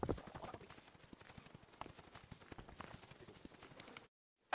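Horses galloping in a race in Kingdom Come: Deliverance II, a rapid, steady clip-clop of hooves throughout, fairly faint, ending abruptly.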